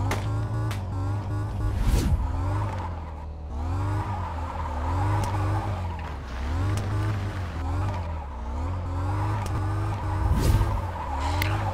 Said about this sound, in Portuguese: Eu vou tentar fazer meu último zerinho aqui, ó.